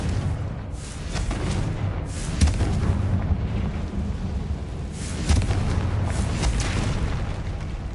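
A Confringo blasting spell explodes in Hogwarts Legacy, part of a dense, continuous rumbling wash of booms and blasts with bursts of crackling louder around two and five seconds, with no speech.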